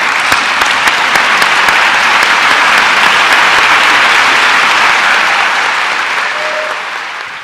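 Sustained applause from an audience honouring the Fayette County Public Schools Teacher of the Year finalists, loud and dense throughout, tapering slightly at the end.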